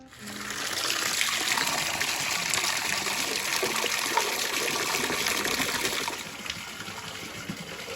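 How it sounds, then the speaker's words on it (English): Water gushing steadily from a hose into animal water tanks on a farm, a constant close rushing and splashing that holds for most of the stretch before easing slightly near the end. "So I had to go to the house to get a hose. So I'm gonna hook it up and start filling tanks."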